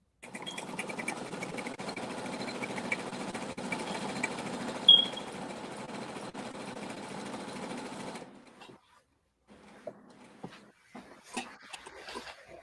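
A sewing machine zigzag-stitches over the casing of a pencil flare skirt, running in a steady, fast mechanical whir for about eight seconds before stopping. Quiet handling rustles and small clicks follow.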